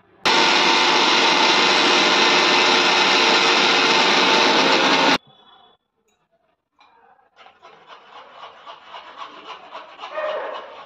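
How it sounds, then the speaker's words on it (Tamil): An electric mixer grinder blends sliced mango for kulfi in a loud, continuous whir lasting about five seconds, then cuts off abruptly. Quieter rattling and scraping follows, rising unevenly. "வாங்க இது இப்போ நல்லா மிக்சியில் நைஸாக அரைச்சி எடுத்துக்கலாம்."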